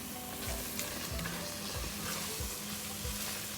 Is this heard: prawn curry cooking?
yes